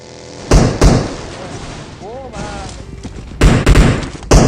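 Gunfire in the mobile battle-royale game PUBG Mobile, with sharp bursts of shots around the start and a fast cluster of rounds near the end, over a steady background of game ambience and some speech.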